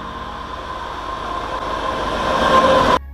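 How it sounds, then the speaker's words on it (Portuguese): A train pulls away, a steady rushing rumble of rail cars building in loudness for about three seconds before cutting off abruptly, with faint high squeals near the end. "O trem sai agora."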